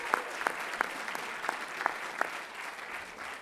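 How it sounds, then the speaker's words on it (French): A small audience at a gala evening claps for the host in a thin, sparse spatter, with a few distinct louder claps standing out at a steady pace over roughly three seconds, fairly quiet. "Une main d'applaudissement à l'animation qui fait une grande différence dans la soirée."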